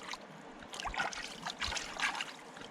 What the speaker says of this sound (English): The water's really flowing right through here.